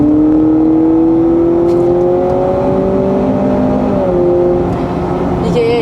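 A 2024 Honda CR-V Hybrid AWD plays its synthetic virtual engine sound while accelerating, a steady loud tonal hum whose pitch slowly rises and wavers, close and continuous with no talk.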